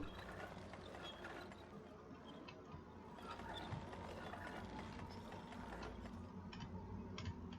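A crank mechanism turns in Little Nightmares 2, giving a steady run of ratcheting clicks and gear rattles over a dense, rumbling game ambience, with no talking.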